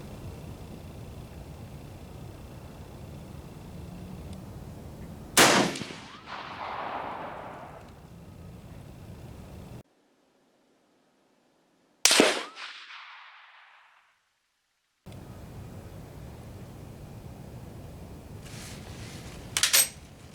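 Rifle shots on an outdoor range from a K31 and a National Match M1A firing fouling rounds: three sharp, loud reports a few seconds apart, each with a short decaying echo, between stretches of quiet wind noise.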